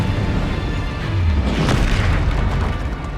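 Incendio fire spell in Hogwarts Legacy bursts out as a loud, deep whoosh and boom that swells and rumbles for a couple of seconds, close and forceful.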